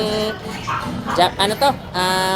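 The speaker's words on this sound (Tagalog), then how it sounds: "May aso pala tayo. Ito, may aso ka pa." A puppy at the Grotto pet market gives short whimpers and yips, close and fairly loud, with people talking nearby.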